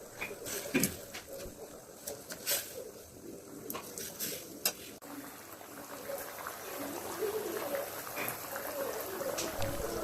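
Thick paneer butter masala gravy bubbles and sputters in a pan, with irregular pops and crackles over a steady simmering hiss.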